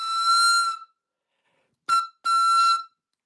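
A very loud 3D-printed death whistle is blown in two long piercing shrill blasts with a short chirp between them, close and alone, with silence in the gap.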